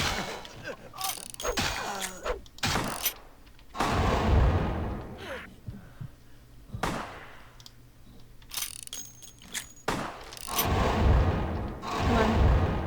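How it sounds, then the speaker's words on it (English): Repeated heavy shotgun blasts in the Vampire The Masquerade - Bloodlines video game, loud booming shots in irregular bursts with pauses between, mixed with game effects. "Shotgun, really?"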